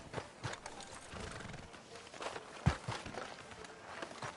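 A horse in the video game Red Dead Redemption 2 clip-clops along at a walk, its hooves tapping softly and irregularly, with a faint snort or whinny and one sharper thud partway through.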